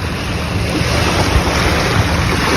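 Sea surf off Negros Occidental, where the water has turned green, rolls as a steady, loud wash close to the microphone, mixed with buffeting wind noise, with no talking.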